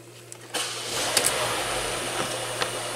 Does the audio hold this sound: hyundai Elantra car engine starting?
yes